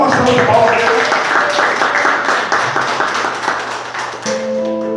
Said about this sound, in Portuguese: Deus é amor, dá uma salva de palmas aí.